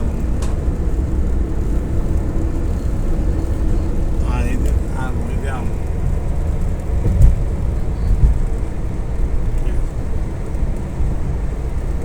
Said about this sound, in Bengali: কি সুন্দরভাবে আমাদের গাড়ি যাচ্ছে